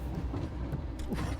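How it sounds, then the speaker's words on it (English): A train rumbles along in a video game with a steady low rolling roar and faint rattling clatter, moderately quiet and unbroken, with no voices over it. "Oh my god, a train's coming!"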